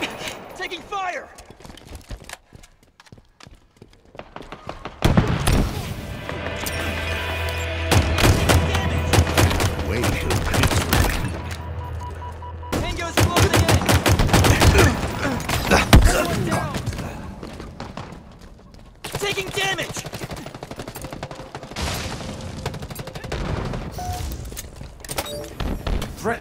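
Gunfire in a Halo Infinite battle: bursts of sharp shots and heavy thuds come in uneven clusters, some dense and loud, others sparser, with game voices and effects between them.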